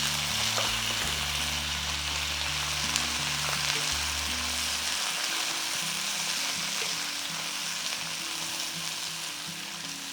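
Chopped celery leaves for a chutney fry in a pan, giving an even, steady sizzling hiss throughout with no voices.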